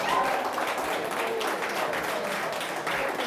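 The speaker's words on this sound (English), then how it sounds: "Please stand up and give them a round of applause." Audience at an awards ceremony applauding honorees, a dense continuous round of clapping from a crowd that holds steady throughout.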